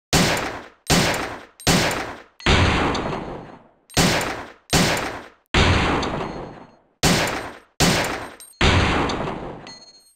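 Handgun loaded with enhanced ammunition firing in Resident Evil 3: Nemesis: ten loud, evenly spaced single shots, each a sharp bang with a decaying tail, with no talk.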